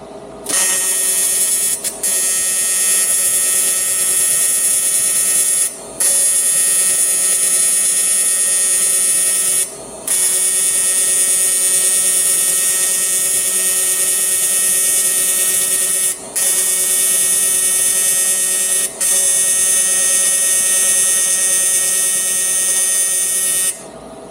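An Everlast Lightning MTS225 TIG welder runs on aluminum with a loud, steady high-pitched buzzing arc, cut by several brief pauses between passes, and no talking.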